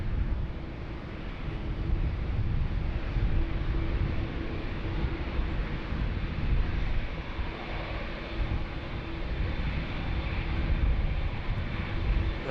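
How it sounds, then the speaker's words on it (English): Low, steady roar of a Jetstar Dreamliner airliner coming in at Sydney Airport, a broad rumble held at an even level throughout with some wind noise, no voices. "The Jarman Air Dreamliner coming in."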